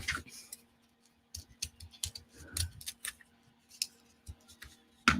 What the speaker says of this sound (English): These scissors are not great.